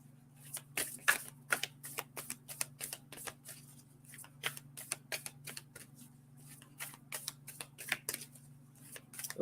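A deck of oracle cards is shuffled in repeated quick riffles and flicks, a steady run of crisp papery bursts close up over a low constant hum, with no talking.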